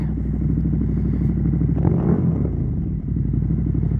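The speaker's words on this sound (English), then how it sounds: "Oh, it sounds so good. These big V-twins are just brilliant." A 2018 KTM Super Duke 1290 R V-twin motorcycle engine rumbles steadily and loudly up close, with a brief swell of revving and clatter midway before settling back to a deep idle, no talking.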